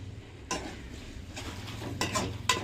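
Quiet sizzling of tomato, onion, garlic, green chilli, potato and eggplant sautéing in oil in a pan, punctuated by a few sharp clinks and scrapes of a utensil stirring.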